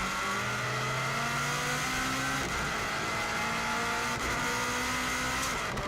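A Subaru WRX STI rally car climbs a steep hill at the Isle of Man TT, heard from onboard. The engine drones loud and steady, with a gear shift midway and a brief tyre squeal, and no talk.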